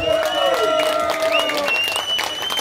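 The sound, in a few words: audience applause at a rock concert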